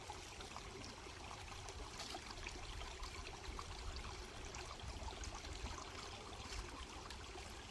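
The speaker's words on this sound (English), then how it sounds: "this is the creek that comes right next to that Spring Creek shelter" A creek beside the Spring Creek shelter on the Pinhoti Trail flows with a steady, soft, broadband rush. The sound is even and unbroken throughout, with no voices.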